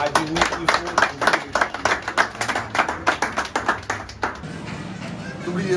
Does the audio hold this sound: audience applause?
yes